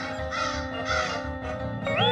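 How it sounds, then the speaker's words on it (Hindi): Several crows caw loudly and close by in a short burst over a steady background hum, with harsh repeated calls rising toward the end. "यहाँ कौवे कैसे आए?"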